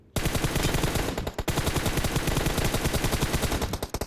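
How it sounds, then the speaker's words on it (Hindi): Rapid bursts of automatic gunfire in a PUBG Mobile match on the Livik map, loud and close, firing almost continuously with one brief pause, and no talking. "जैसे ही मैं कवर में जाता हूँ वैसे ही मुझको गन साउंड आता है"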